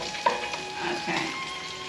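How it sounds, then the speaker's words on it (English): Sausage fries in a pan of hot bacon grease, a steady close sizzle with a small pop near the start. "take the bacon out and then we'll fry the sausage"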